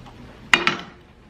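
A SmartBun panini bun is flipped in a pan, giving two quick clattering knocks close together against a quiet background.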